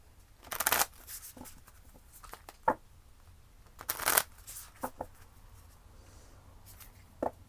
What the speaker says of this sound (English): You guys rarely see me shuffle on camera, but it's a process.